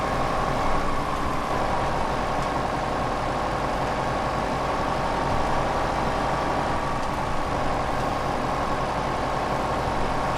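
Tractor engine in the Farming Simulator 2015 video game, a steady droning diesel hum with a constant low rumble, running evenly and alone without voices.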